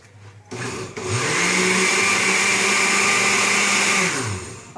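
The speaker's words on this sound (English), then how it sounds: "And we're going to puree that, blend it." A kitchen blender purees stewed tomatoes, starting up with a click and holding a loud, steady whirring roar for a few seconds before winding down, with no talking.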